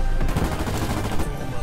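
Rapid automatic gunfire from Call of Duty Zombies, a dense continuous burst of shots filling the whole moment.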